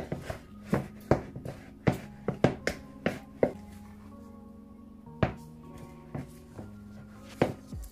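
Homemade Jamaican hard dough bread dough mixed by hand, giving a string of sharp, close slaps and thumps at an uneven rhythm over a quiet room.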